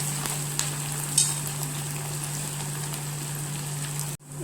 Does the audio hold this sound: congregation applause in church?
no